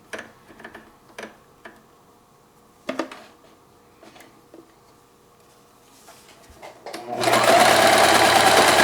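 Sewing machine stitching a tiny, tight stitch while foundation paper piecing a quilted mug cozy: sparse ticks and clicks at first, then a loud continuous close-up whir of rapid stitching in the last seconds.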